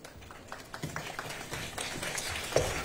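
A modest round of audience applause greets a singer as he walks onto a showcase stage: scattered, uneven hand claps that stay at a steady, moderate level for a few seconds.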